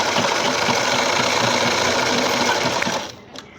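A sewing machine runs steadily at speed, stitching a churidar pajami, with a fast, even mechanical rattle that stops abruptly near the end, leaving a brief quiet tap.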